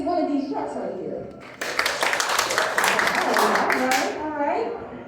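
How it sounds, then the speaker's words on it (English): A crowd at the Coca-Cola Museum claps to vote on a choice about trucks. There is steady group applause of a few seconds, and a voice speaks before and after it. "clap your hands if you think it's one of these trucks right here"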